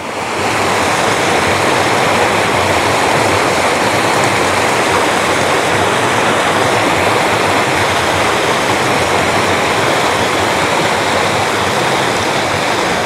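Mickleden Beck, a mountain stream in the Lake District, rushes steadily and loudly in a dense, unbroken wash of water noise close to the microphone, with no voices.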